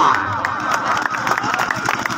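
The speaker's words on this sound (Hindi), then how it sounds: "बिल्कुल ठीक है और फान दे वास्ते जोरदार तालियां" A crowd at a village kabaddi match between Amra Kalan and Dhakar claps and cheers loudly, with scattered claps over a noisy roar and a commentator talking over it.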